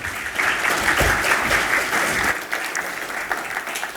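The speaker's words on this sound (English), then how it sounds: "If you wouldn't mind joining me in some applause as we welcome Dr. Levy." Audience applause welcoming a guest speaker at a talk, a steady broad clapping that fills the room for about two seconds and then thins out into scattered claps.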